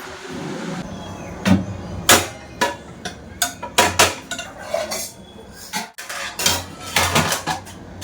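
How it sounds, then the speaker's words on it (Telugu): Metal pooja vessels and utensils clatter and clank repeatedly while being cleared from a prayer room, a steady series of sharp, close knocks and scrapes of varying loudness with no talking. "ఇన్ని గిన్నెలు ఉన్నాయి ఇవన్నీ క్లియర్ చేయడానికి ఎంత టైం పడుతుంది"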